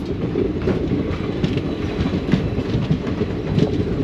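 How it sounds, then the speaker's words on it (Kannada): Chamundi Express being reversed from a rack line onto the main platform line at a station on the Hole Narasipur–Hassan loop, rolling with steady low rumble and repeated clickety-clack of wheels over rail joints, close and continuous, no voices. "ಯಾವುದೋ ಟ್ರೈನು ರಿವರ್ಸಲ್ಲಾಗಿ ಸ್ಟೇಷನ್ಗೆ ಹಾಕ್ತಿದ್ದಾರೆ ಇವಾಗ"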